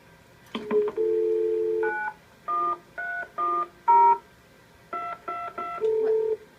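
A string of telephone DTMF keypad tones dialing a number, loud and close, with about ten beeps of varying length and uneven spacing, some held longer than others.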